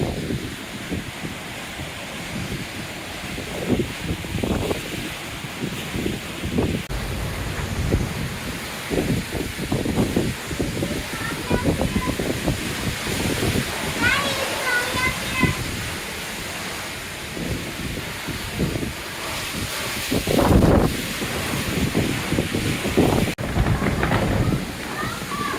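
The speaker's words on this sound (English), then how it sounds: "Winds are totally picking up, changing direction." Strong Hurricane Ian winds in southwest Florida roaring and gusting against the microphone with rumbling buffets, rain and surf-like wash underneath, and occasional voices talking over the storm.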